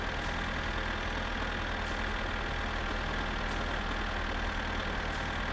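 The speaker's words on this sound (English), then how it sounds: "the tractor noise is coming off very shortly" A tractor engine in the video game My Summer Car drones at a steady idle, a low continuous mechanical hum with no breaks, moderately quiet.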